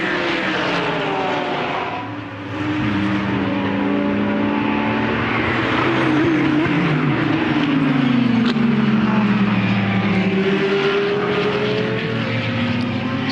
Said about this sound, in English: So Serge trying to sneak down the inside of the Audi there